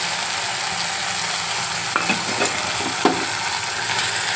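Grated coconut is stirred into a spicy pumpkin curry frying in a pan: a steady sizzle with a few soft scraping stirs near the end, and no voices.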